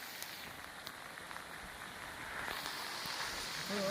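Heavy monsoon rain pours steadily outdoors at a chicken-cooking spot, a dense continuous hiss of drops on surfaces that swells a little louder toward the end, with no talk.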